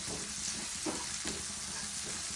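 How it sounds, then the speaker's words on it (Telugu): Broad beans frying in a pan, a soft steady sizzle with a couple of faint stirring touches, fairly quiet and close. "ఇలా అంతా కలుపుకోవాలి చిక్కుడు గింజలు వేగనియాలి కొద్దిసేపు వేగనివ్వాలి"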